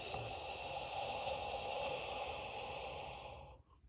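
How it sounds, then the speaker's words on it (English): Ujjayi yoga breath drawn through the nose with the throat constricted, one long, soft, hissing breath held steady for over three seconds before it stops, close and alone. "do the same thing with the constriction in the glottis, in the back of the throat, but breathing through the nose now"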